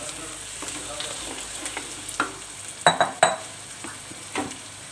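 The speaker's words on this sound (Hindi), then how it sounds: "जो हमारा मैरिनेट किया हुआ चिकन है हम इसमें वो ऐड कर देंगे" Marinated chicken drops into a pan of frying onions for a desi dhaba-style chicken curry, sizzling steadily up close while a utensil scrapes and clanks against the pan in a few sharp stirs.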